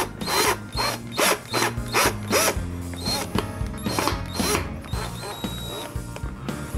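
A power driver turns a screw into a wooden board on a birdhouse, giving a run of close, loud ratcheting bursts in a stop-start rhythm, with no one speaking.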